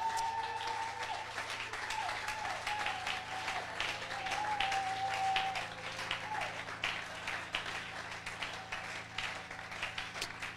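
A church congregation applauds with a soft, continuous patter of many hands at a distance, fairly quiet and even, with a low hum and faint tones beneath.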